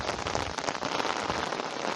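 Steady rain falls on a riverbank during a fishing outing in the countryside, a dense, continuous hiss of drops pattering on surfaces up close, loud and unbroken for the whole stretch, with no voices.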